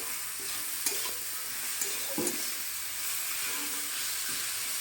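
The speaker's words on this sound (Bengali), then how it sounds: "এবার আমি দেবো কেটে রাখা ক্যাপসিকামগুলো" Chopped capsicum hisses and sizzles steadily in a hot pan with egg curry, while a spatula scrapes and clacks against the metal a few times, close and continuous.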